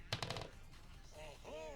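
A quick burst of rapid gunfire in the game Granny 2 opens, followed by tonal electronic game sounds rising and falling.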